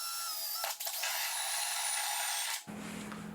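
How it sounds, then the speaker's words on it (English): A steady whining drill with a hole saw cuts a large hole for a 10-inch subwoofer in a motorcycle side bag, running a few seconds with a brief dip midway, then a lower mechanical hum, close and loud without speech. "I'm now going to drill with a hole saw, a pretty large hole"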